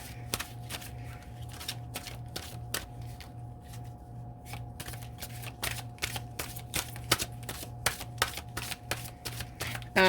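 Tarot cards are shuffled in a steady run of crisp riffling snaps and flicks, close and fairly loud, with a low steady hum underneath and no talking.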